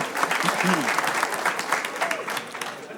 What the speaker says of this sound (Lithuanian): plojimais palaikom Kristoforą